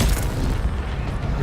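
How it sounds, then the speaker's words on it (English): Enemy gunfire in a video game comes as a dense barrage of loud, booming low thuds and blasts, continuous and rumbling throughout. "Enemy fire."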